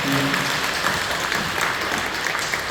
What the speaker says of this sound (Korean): 여러분들 서로 격려하며 더 박수했으면 좋겠습니다